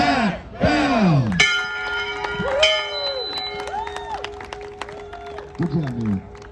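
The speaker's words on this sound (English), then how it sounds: "Mia Jackson, ring that bell." A graduate at a class of 2023 ceremony strikes a bell once, its clear ringing tone sustaining and slowly fading while a crowd cheers and shouts around it.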